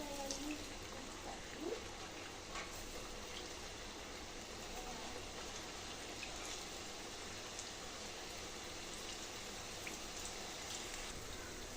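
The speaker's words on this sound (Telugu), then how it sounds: "ఆయిల్ బాగా హీట్ అయిన తర్వాత ఇప్పుడు ఈ చిప్స్ని యాడ్ చేసుకోవాలండి." Rice flour chips fry in hot oil with a faint, even sizzle, like light rain, that holds steady throughout.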